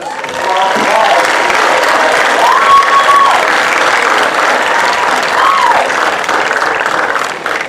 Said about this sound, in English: another round of applause for this